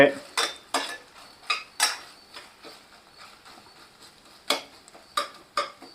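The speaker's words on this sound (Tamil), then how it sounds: "ஓகே இதை நல்லா கலந்து விட்டுட்டு" A spoon scrapes and clinks against a pot while mutton kurma mixture is stirred, giving a series of sharp metallic knocks in an irregular rhythm, close and fairly loud, with no talk.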